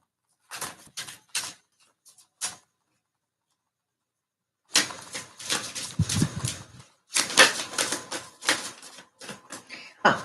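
Bursts of crisp riffling and tapping as tarot cards are shuffled nearby, a few quick flicks, a pause, then longer rapid rattling runs.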